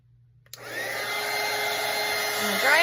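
After a moment of near silence, a hair dryer switches on with a click and blows steadily and loudly up close, drying a watercolor painting, its whirring tone slightly shifting toward the end.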